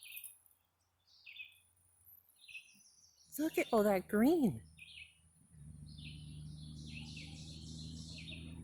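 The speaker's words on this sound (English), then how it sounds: "Listen to the birds." Scattered bird chirps and calls sound from a distance on a hike at Ice Lake, Cresco, Pennsylvania, with a person speaking briefly in the middle and a steady low road hum setting in near the end.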